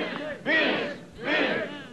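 A television studio audience shouts a rhythmic encore chant in two loud bursts, voices blending together with a brief dip between them.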